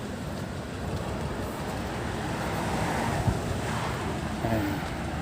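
Water flowing steadily in a Thai canal, a broad continuous rushing wash with a slight wind-like roar, fairly loud and unbroken, with no talk over it.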